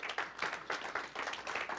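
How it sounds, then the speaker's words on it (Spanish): A church congregation claps in praise, a quick run of several rhythmic bursts of applause, moderately loud and close, with no talk over it. "Déles ofrenda de palmas al Señor."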